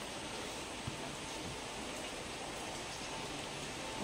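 A rain shower falls steadily over trees and ground, a soft, even hiss of drops that holds at the same faint level throughout with no voices.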